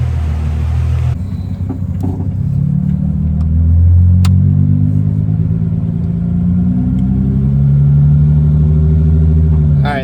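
Mercedes SLK death-kart engine running hard on a 100-shot of nitrous, a loud, close, sustained low rumble with rising and falling revs across the whole stretch.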